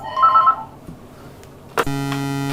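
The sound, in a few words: telephone ringing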